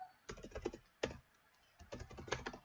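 Bursts of quick keystrokes on a computer keyboard as a PowerShell command is typed, close and fairly soft, in clusters separated by short pauses.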